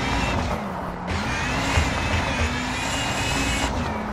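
Rally car from WRC 5 racing flat out on a Rally de España stage, a loud continuous engine roar with a rising and falling pitch line and a brief dip near the one-second mark, no talk.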